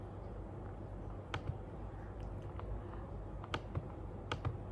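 Typing on a computer keyboard while entering an address into a browser, with scattered sharp key clicks in small irregular bursts over a low steady background hum.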